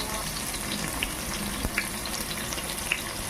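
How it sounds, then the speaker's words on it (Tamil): Onions frying in a pressure cooker give a continuous dense sizzle with scattered small pops and crackles, close and even in level throughout, with no voices. "நல்லா வெங்காயம் வதங்கணும்."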